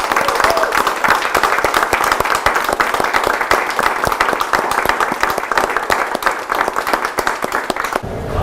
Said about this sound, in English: maybe we could just have a little round of applause for Helen and Jim and Miss Kitty